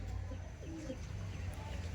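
Madras pigeons of an old pure line, including a pair with crested heads, cooing softly at close range in a low, continuous murmur over steady background noise.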